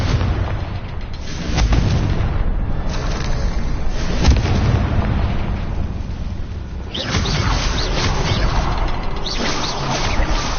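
A Confringo fire spell in Hogwarts Legacy, a loud booming fiery blast with whooshing, crashing bursts that sustain and surge again midway, no talking.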